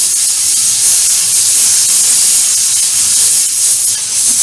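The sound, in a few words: airbrush spraying paint onto StuG III model tank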